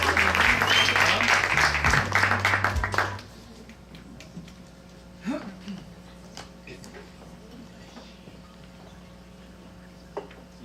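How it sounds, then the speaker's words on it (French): A burst of loud audience clapping fades out within a few seconds, leaving a quiet room with scattered faint knocks and rustles. "On l'applaudit, s'il vous plaît."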